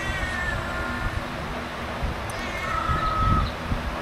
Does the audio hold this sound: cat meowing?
yes